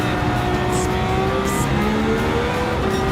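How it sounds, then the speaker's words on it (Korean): A race car engine in a sim racing game revs loudly, pitch climbing and falling through gear changes, with brief tire squeals over the roar. "솟구치는 엔진 음색이 참 좋네요."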